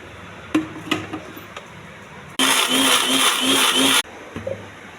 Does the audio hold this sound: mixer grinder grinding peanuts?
yes